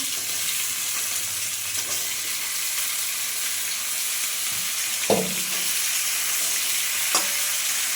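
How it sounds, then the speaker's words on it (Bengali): Chunks of potato and papaya fry in a pan with a steady close hiss, while a spatula scrapes and stirs now and then, producing a few louder knocks. "এটাও সুন্দর করে লাল লাল করে ভেজে নেব।"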